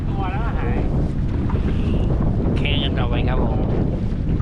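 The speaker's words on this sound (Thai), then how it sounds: "ลมกระพือสุด" Strong wind gusts buffet a boat at sea off Ko Man, Rayong, roaring loudly and steadily against the microphone with churning water beneath, while people talk and shout over it.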